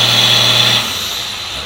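Pulling tractor, a 1977 machine fitted with a 2007 C&H Genesis engine, revs loudly with a steady engine tone that drops in level partway through the brief stretch, heard alone without talk.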